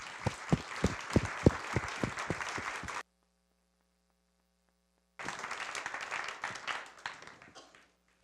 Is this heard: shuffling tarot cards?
no